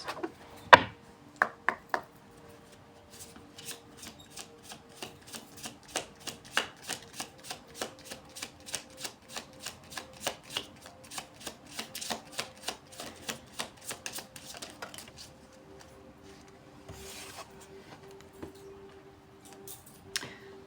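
Tarot cards handled and shuffled: a long, regular run of crisp flicking riffles close by, with some louder snaps near the start and a softer pause near the end, no voices.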